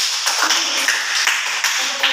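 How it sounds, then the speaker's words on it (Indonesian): A class of students clapping during a micro teaching lesson, a brief burst of brisk, fairly loud clapping from a group of hands, close and continuous. "Oke, tepuk tangan untuk"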